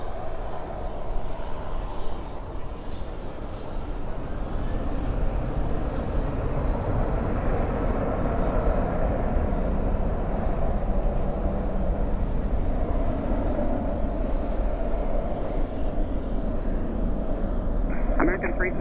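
An airliner departs Dallas/Fort Worth airport at night with a continuous, steady jet roar, heard at a distance. Radio chatter and talk run over it.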